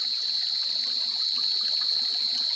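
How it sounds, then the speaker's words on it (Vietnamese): Water flows steadily in a small hillside stream, a continuous, even rushing and trickling that stays at a constant level throughout, with no voices. "tiếng nước chảy không?"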